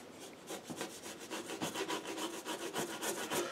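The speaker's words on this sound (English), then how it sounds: "Just loosening it and just scraping it off." A tool scrapes and rubs watercolour paint off paper in quick, repeated strokes, soft and close, with no talk.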